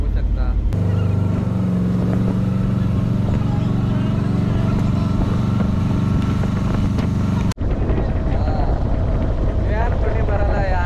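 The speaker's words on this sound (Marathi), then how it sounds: "तर आपली बोट चालू झालेली आहे" The engine of a large passenger motorboat on the Srisailam dam reservoir drones loud, close and steady, with voices talking over it, until the sound cuts off abruptly near the end.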